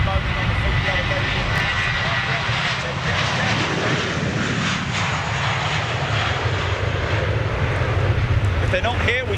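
A big jet airliner roars past in a loud, steady engine rumble that fills the whole stretch without letting up, heard from the ground near an airport.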